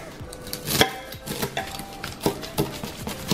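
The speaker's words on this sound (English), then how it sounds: "what I'm gonna do is I'm just gonna go ahead and chop" A knife chops the green tops off a bunch of carrots on a board, producing close, irregular woody thuds at a quick pace with no talk.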